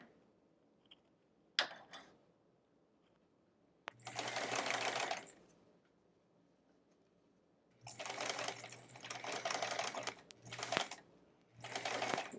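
A sewing machine stitches foundation paper piecing for a quilt block in short, loud, rapid bursts: one run, then a longer stretch, then a final short run, separated by quiet pauses and faint handling clicks.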